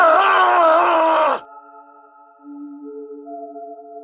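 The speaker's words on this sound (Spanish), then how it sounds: "¿Qué fue eso? Polar, ¿tú también lo escuchaste? Él respondió, Polar cree que fue un grito de Pardo" A drawn-out, strained scream-like groan in a horror story, loud and wavering for just over a second, then giving way to eerie sustained synthetic tones.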